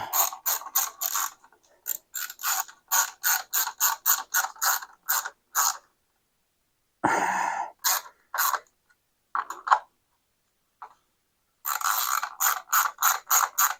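A hand ratchet snugs skid plate bolts on a Beta 390 dirt bike, fitted with an AXP Xtrem skid plate. Crisp, close clicking comes in rapid bursts, separated by short silent pauses.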